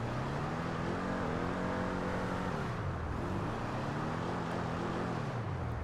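Engine of the Broadway muscle car in GTA 5 Online growls loudly and continuously, revving up, dipping and climbing again with a rough, throaty tone, with no talking.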